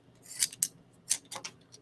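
Regular scissors cutting an Isolite dental mouthpiece, a few quick, crisp snips and rubbing scrapes heard up close in an otherwise quiet room.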